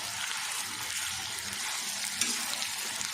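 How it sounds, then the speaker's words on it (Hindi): Steady, close sizzling of ginger and garlic frying in hot ghee, a continuous crackle with occasional small pops and no talking. "इस जगह पे हमने घी में ही अदरक और लहसुन डाल देना है।"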